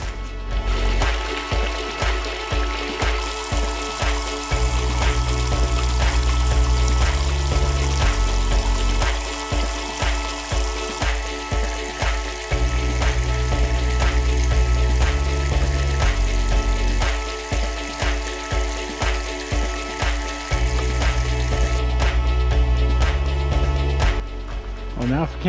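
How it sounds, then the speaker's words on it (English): Water is filtered at a backcountry water source on a multi-day bikepacking trip, with a steady watery hiss broken by repeated rhythmic bursts of short pumping or squirting strokes that cycle throughout. "Found the water source. Time to make some water."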